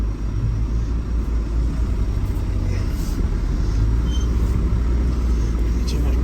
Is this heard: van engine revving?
yes